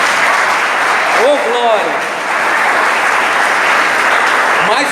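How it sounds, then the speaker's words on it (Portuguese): Church congregation applauding, a dense, sustained wave of clapping filling the room while a voice calls out over it. "Vamos aplaudir o Senhor por causa da Bíblia?"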